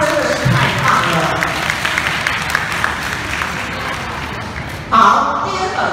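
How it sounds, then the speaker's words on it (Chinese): Applause from an audience at a primary school graduation presentation, a dense steady patter of clapping lasting throughout and swelling louder near the end, with some crowd noise mixed in. "那我们给他掌声"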